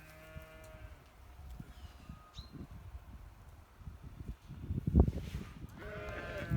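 Sheep in a village garden bleat, several wavering calls at the start and end over rustling, shuffling movement and ambient farm noise, moderately close.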